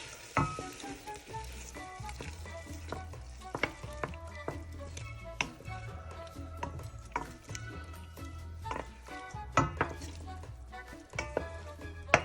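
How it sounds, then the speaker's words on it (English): Meat browning in a pan, sizzling and frying steadily at a moderate level, with scattered clicks and scrapes of stirring against the pan. "You can see that the meat is starting to brown a little bit. Let's give that a stir."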